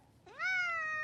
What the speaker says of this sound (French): vous enregistrez un miaulement de votre chat